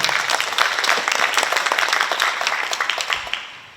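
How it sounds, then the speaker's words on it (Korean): Dense applause from a conference audience welcoming a speaker at a women's AI entrepreneurship event in San Francisco, a steady crackle of many hands clapping that fades out near the end. "큰 박수로 맞이하여 주십시오"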